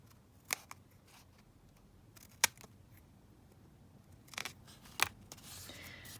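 Scissors trimming paper for a folio, a few faint, separate snips spaced apart in a quiet room, with light handling rustle between cuts.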